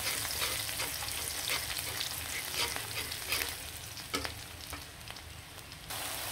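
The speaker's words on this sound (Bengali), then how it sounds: "আর গরম তেলে কিন্তু কুচি কুচি করা পেঁয়াজ দিয়ে দিলাম।" Chopped onions sizzle and crackle in hot oil for a rohu fish curry with potatoes, a steady close frying hiss with occasional stirring scrapes and no talking.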